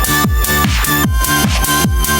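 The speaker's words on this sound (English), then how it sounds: "it's time to add sort of like a high-pitched pad that we can bring" High-pitched synth pad sustaining bright tones over a repeating thumping electronic beat, loud and continuous with no voices.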